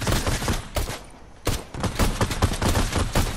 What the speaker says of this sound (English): There's people shooting at you.